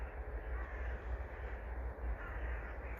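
Crows caw repeatedly outdoors in nature, a flock of many birds calling over steady broadband background noise, moderately loud and continuous without talk.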